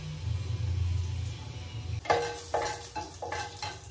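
Mustard seeds and curry leaves hit hot oil in a pan, a low steady sizzle that breaks into sharp crackling pops and bursts of spattering, close and with no talking.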